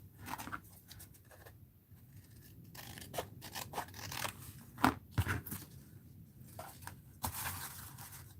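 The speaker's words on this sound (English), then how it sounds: "So we're going to cut a piece here. Maybe I'll cut this off." Scissors cut paper for an art journal, close and fairly quiet, with a series of irregular snips and crisp crunching strokes alongside rustling paper.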